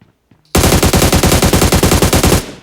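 Rapid automatic gunfire from a military-mode video game shooter, one loud sustained burst of about two seconds with a steady rattling rhythm, heard alone after a brief quiet start.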